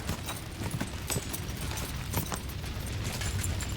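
A horse's hooves clip-clop steadily in the video game Kingdom Come Deliverance 2, a quick, continuous rhythm of moderately faint hoof strikes over a dense ambient bed.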